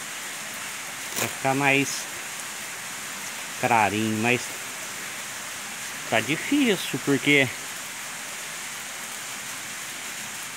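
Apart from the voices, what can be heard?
water running and dripping inside a cave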